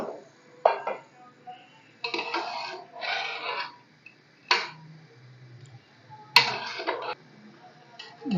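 A metal spoon scrapes and clinks against a cooking pot while lentils and chicken are stirred and fried, in irregular short bursts of clatter with quiet gaps between, fairly close.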